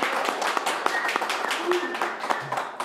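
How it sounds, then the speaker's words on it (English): Church congregation clapping hands in praise during a worship service, a steady scattered patter of claps running the whole time beneath a low murmur of voices. "let's give Jesus a hand clap of praise"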